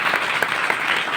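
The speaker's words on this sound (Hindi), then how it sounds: "सबसे पहले उनके लिए तालियां बजाएं।" A burst of crowd applause at a youth dialogue gathering, dense clapping heard alone and fairly loud across the whole short stretch.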